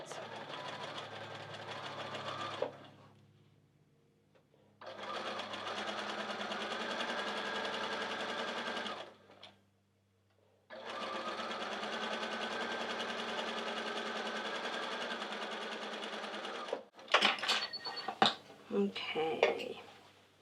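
Sewing machine stitching a seam on a quilt block, running in three steady bursts with short pauses between them, close and even, followed by a few light clicks and handling knocks at the end.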